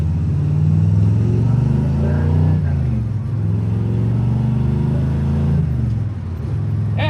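A 1968 Chevelle's 502 V8 revs under a light blip of throttle, a loud, deep rumble rising and falling up close that swells and settles over several seconds, with no talking heard.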